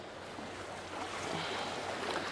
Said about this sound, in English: I'm fairly sure that's a passenger ferry